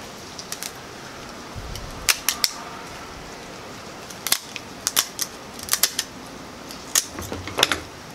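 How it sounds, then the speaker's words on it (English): Kitchen shears split a Florida spiny lobster tail in half, giving a run of sharp, close crunching snips in irregular bursts over quiet background, with no talking. "you just take your shears again and you're literally just cutting it in half"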